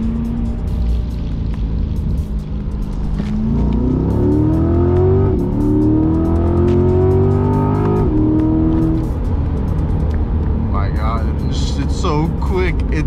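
Corvette C8 engine note rising steadily under acceleration, with audible gear shifts breaking the rising pitch, loud and close from inside the cabin over constant road noise, with voices speaking intermittently.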